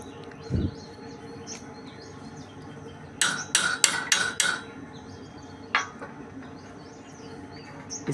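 Metal tool clanks while a copper strip is bent for a 33 kV isolator female contact, a quick cluster of four sharp knocks in the middle and a few isolated clinks, with faint bird chirps in the background.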